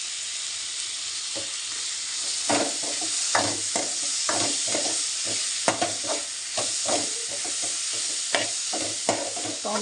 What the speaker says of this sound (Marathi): टोमॅटो पण चांगला परतून घ्यायचा त्यामध्ये